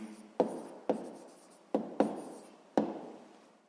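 Pen on paper as an answer is written out by hand for a sixth-grade maths exercise: five short, sharp scratchy strokes spaced unevenly, each fading quickly, close and quiet against silence.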